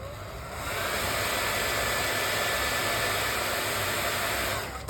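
A hair dryer blows steadily on paint on a cutting board, a loud, even whoosh that starts up, holds for several seconds and then cuts off, with no talking over it.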